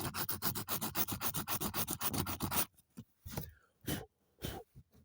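Coarse-grit sandpaper rubs rapidly back and forth on an F250 truck seat, a fast rhythmic rasping of about a dozen strokes, then a few slower separate scrapes with pauses.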